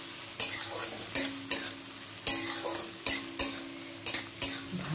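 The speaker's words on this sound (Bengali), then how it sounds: "হালকা ফ্রাই করে নিই এটাকে, পেঁয়াজ আর রসুনটাকে।" Onion and garlic fry in a pan with a steady sizzle, broken by about eight rhythmic scraping strokes as a utensil stirs them, close and clear.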